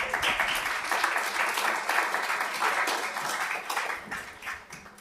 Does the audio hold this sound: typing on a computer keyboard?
no